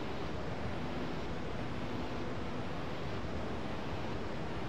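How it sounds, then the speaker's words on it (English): Swirling whirlpool water in the game Pokémon XD: Gale of Darkness, a dense, steady rushing roar like churning surf, even and continuous throughout with no voices. "A whirlpool is created when water currents collide."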